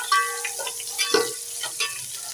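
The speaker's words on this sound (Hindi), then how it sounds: "इसको हम थोड़ा मक्खन में ही फ्राई करेंगे मिर्चों को" Green chillies frying in butter in a pan while rice is being made, giving a steady close sizzle with light stirring clinks and scrapes throughout, no voices.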